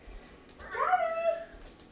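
A dog gives a single whining vocalisation, rising and then sliding into a drawn-out tone, heard fairly close indoors against a quiet background.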